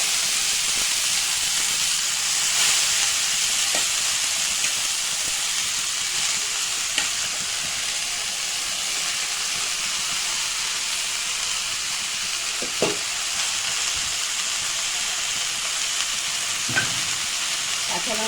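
Water spinach fries in a spiced oil tempering, giving a steady hissing sizzle with a few faint clinks and stirring scrapes scattered through it.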